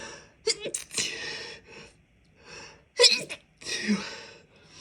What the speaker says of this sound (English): That's how I sneeze in public.